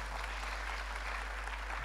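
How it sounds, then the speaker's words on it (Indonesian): A church congregation claps together in praise for God, a steady, dense wash of applause that fills the whole stretch at a fairly low, even level, with a constant low hum beneath it. "Tepuk tangan buat Tuhan, ya."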